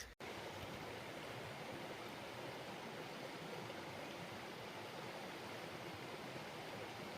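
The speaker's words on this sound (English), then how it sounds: "Beautiful little river stream with falls" A small river stream tumbling over little falls along the Appalachian Trail on a humid day, a steady, dense rush of water that stays even and close throughout, with no voices.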